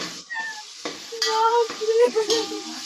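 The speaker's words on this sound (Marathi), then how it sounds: "पहिले तेल गरम करायचं त्यात लसूण अद्रक टाकायचं." Garlic and ginger fry in hot oil with a soft, steady sizzle and occasional stirring. A brief tonal, mewing whine rises over it partway through.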